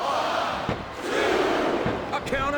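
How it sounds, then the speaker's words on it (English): Capacity arena crowd in WWE SmackDown! vs RAW 2007 roaring and cheering as a wrestling match plays out, a loud continuous wall of voices with a few sharp impacts and ringing tones cutting through. "This capacity crowd is making their opinions known tonight."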